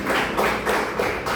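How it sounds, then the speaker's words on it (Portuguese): Hands clapping in praise during a church service, a steady run of claps close by with no voices over them. "Louvem ao Senhor com as palmas"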